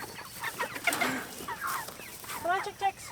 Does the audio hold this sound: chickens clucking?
yes